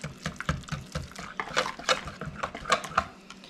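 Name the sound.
whisking pumpkin pie filling in a bowl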